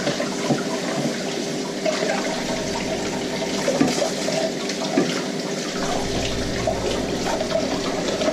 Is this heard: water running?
yes